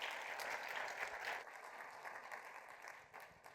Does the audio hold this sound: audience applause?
yes